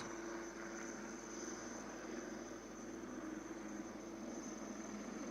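Military helicopter hovering steadily during a Marine Commando fast-rope display at a Beating Retreat and Tattoo ceremony, a constant distant rotor and engine drone with no breaks.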